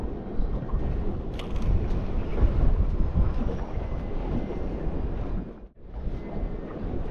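Steady gusty wind near Perth buffeting the microphone, a low rumbling roar that holds for several seconds and briefly drops out near the end.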